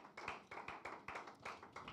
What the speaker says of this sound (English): Please let's keep clapping until he sits down.